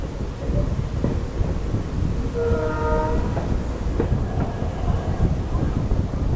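The Jaipur Express 09720 special train runs toward Degana with a loud, continuous rumble of wheels on rail heard from on board, and a brief horn sounds partway through, with no talking.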